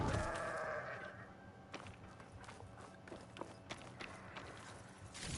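A goat bleats near the start in the video game Horizon Forbidden West on PS5, then fades into faint footsteps and soft ambient noise. It sounds quiet and synthetic.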